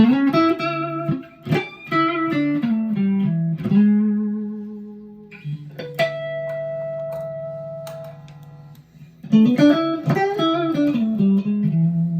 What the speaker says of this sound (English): now I have the Fender Strat into a Fender Deluxe Reverb reissue